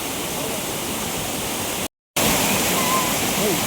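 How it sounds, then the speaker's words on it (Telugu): Steady, loud rushing of Amboli Waterfalls in the Western Ghats, Maharashtra, filling the space, a constant broadband roar interrupted briefly by a moment of silence midway. "ఇది కూడా వాటర్ ఫాల్ అయిపోయింది"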